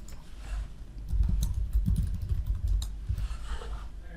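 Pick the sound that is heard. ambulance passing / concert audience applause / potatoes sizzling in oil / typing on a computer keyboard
typing on a computer keyboard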